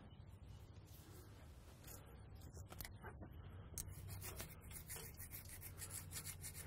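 Sculpting tool rubbing against granite stone, a soft, continuous gritty scraping with irregular strokes, faint and close, with no voices.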